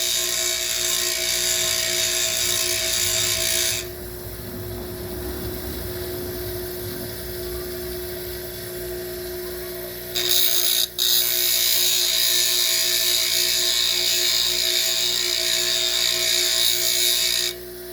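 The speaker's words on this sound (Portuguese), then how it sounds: "o trabalho, né, na esmerilhadeira ficou todo por igual" Bench grinder sharpening hand tools, a steady high whine with tonal hum and a continuous abrasive hiss of metal against the wheel that drops away partway through and then returns, close and loud with no speech.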